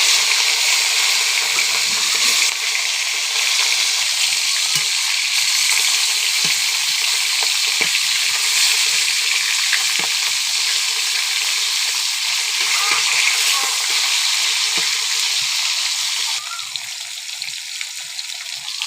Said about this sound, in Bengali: তেল গরম হয়ে গেছে মাছগুলো আস্তে আস্তে দিয়ে দিলাম মাছগুলো হালকা ভাজি করবো বেশি ভাজি করবো না